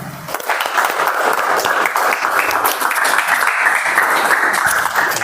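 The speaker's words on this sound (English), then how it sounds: "Please welcome, with a big round of applause, distinguished Toastmaster Mazahir." A sustained round of audience applause at a Toastmasters club meeting, dense and even from start to finish, loud and close without any speech over it.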